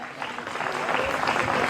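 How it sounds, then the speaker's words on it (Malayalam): An engagement ceremony audience applauds on cue as parents are welcomed onto the stage, a dense clapping wash that swells slightly and holds steady with a faint voice underneath. "നല്ലൊരു കൈയടി കൊടുക്കാം."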